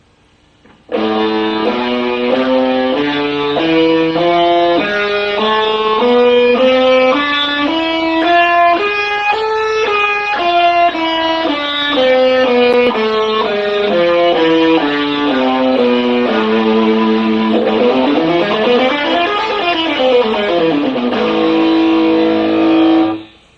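A distorted electric guitar plays an A harmonic minor scale note by note across two octaves, climbing and descending steadily in even rhythm, then a quicker rising-and-falling run near the end.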